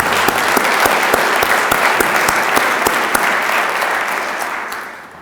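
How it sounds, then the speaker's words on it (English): An audience at an MLK Day event claps in a loud, dense round of applause with crisp individual claps standing out, holding steady before fading away near the end. "Let's have another round of applause for Zoe."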